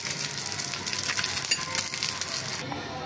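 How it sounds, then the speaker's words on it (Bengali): Fish frying in hot oil in a pan, a loud steady sizzle with crackling pops throughout, close up, no talking. "আমার মাছটা কিন্তু একেবারে ভাজা ভাজা হয়ে গিয়েছে।"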